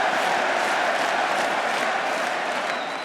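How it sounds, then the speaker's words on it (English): A large esports arena crowd at a T1 event roars in a dense, sustained wall of chanting and cheering that stays loud and even throughout, with no clear single voice standing out. "Oh my god, the whole crowd is chanting for Caria."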